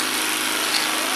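A buffing machine polishing acrylic gives off a steady, dense high-pitched whirring hum, constant and close throughout.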